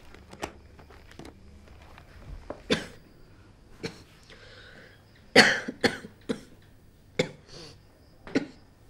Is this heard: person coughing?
yes